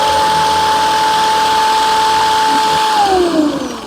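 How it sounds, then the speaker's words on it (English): A 24 volt scooter motor spins with a steady, loud high whine that holds evenly, then drops in pitch as it slows near the end. "This is a 24 volt motor, mostly used in scooters."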